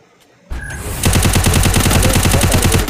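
Grenade blast in a shooter game, Counter-Strike ranked match, a sharp onset followed by a loud, dense rattling burst of rapid explosive pops lasting a couple of seconds.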